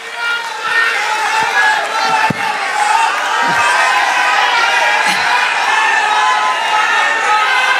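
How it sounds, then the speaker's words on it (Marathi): A large crowd at an outdoor election campaign rally in Beed roars with continuous cheering, shouting and applause in welcome, a dense, loud, unbroken wash of noise with a few sharp thumps and distant shouts mixed in. "2 मिनिटं आपण सर्वजण त्यांच्या टाळ्या वाजून स्वागत करा."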